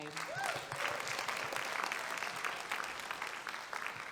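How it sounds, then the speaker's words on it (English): Audience applause at the British Urban Film Festival awards show, a steady, moderately distant wash of clapping from a large crowd that continues evenly for several seconds, with a brief voice at the start. "Another round of applause for Uche."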